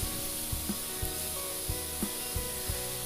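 Onion frying in a pan with beetroot for homemade tomato sauce: a steady bright sizzle, close by, broken by soft regular knocks about every half second as the pan is stirred.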